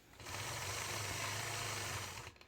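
A sewing machine runs steadily while machine quilting with fine thread over an hourglass quilt block, giving a continuous close mechanical whirring hum for about two seconds before stopping.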